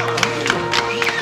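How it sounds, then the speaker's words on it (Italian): A crowd of skateboarders at a container skatepark bursts into brief applause with cheers and a whoop. The clapping and shouting are loud and close but last only a moment. "Un applauso."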